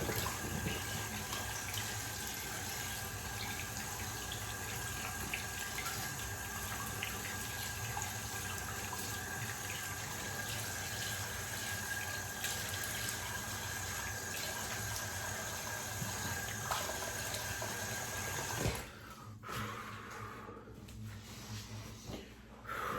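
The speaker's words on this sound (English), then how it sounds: "Wet the face." Tap water running steadily to wet the face before a shave, a loud continuous close stream that cuts off near the end, leaving quieter trickles and faint bathroom sounds.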